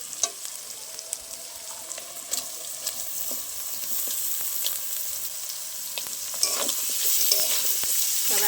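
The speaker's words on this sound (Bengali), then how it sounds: "সব একসাথে ভালো করে ভাজা করে নেবো।" Prawns, chopped onion and boiled ghetkochu (taro stems) frying and being stirred together in a pan, with a steady sizzle and scraping spatula strokes throughout, getting slightly louder toward the end.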